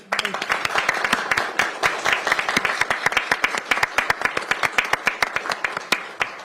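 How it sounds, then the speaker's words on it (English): Applause at a county council meeting: many sharp, distinct hand claps in a brisk, fairly even rhythm from a modest group, close and clear, thinning slightly toward the end. "Let's give them a round of applause."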